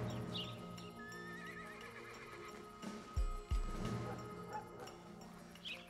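A horse in the video game Desperados 3 whinnies in a high, wavering call, followed by a couple of heavy hoof thuds against a background hum.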